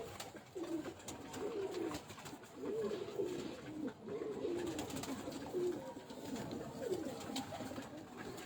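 Pigeons, a Teddy-bred pair, coo repeatedly in soft rolling phrases at close range, over a steady background hum.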